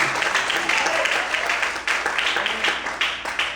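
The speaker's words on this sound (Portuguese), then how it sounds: "Quantos podem aplaudir e exaltar ao Senhor essa noite?" A church congregation claps during an evening Portuguese-language sermon service, a moderate wash of applause with uneven swells, heard from a middle distance without talk over it.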